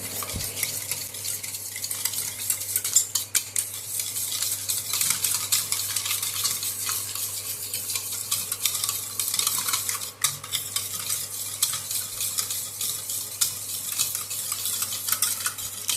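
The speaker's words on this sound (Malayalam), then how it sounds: "ഒരു മൂന്ന് സ്പൂൺ പഞ്ചസാര ചേർത്തിട്ട് എന്നിട്ട് ഇത് നന്നായി ഇളക്കുക" Sugar being stirred into a Malaysian kuih mixture with a spoon, a steady scraping and swishing against the bowl that carries on for the whole stretch at close range, with no talking.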